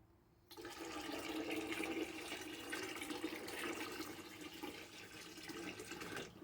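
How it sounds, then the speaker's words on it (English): A sustained stream of spring water pours and splashes into moonshine, starting abruptly and continuing steadily to the end. "I'm just going to add a little water and then I'll keep checking the proof on it."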